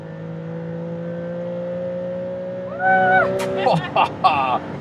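A Maserati MC20 with a V6 engine drives on the autobahn, its engine humming at a steady, even pitch from inside the car. Near the end, short louder bursts with wavering tones break in over the drone.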